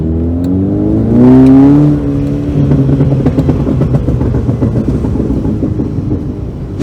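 A car fitted with a burble tune exhaust revs loudly up through its range and settles into a rough, popping idle with crackles, close by with no voices.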